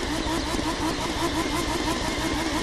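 A deep Lamborghini engine in the video game The Crew 2 rumbles steadily with a rough, pulsing idle, loud and close, with no voices.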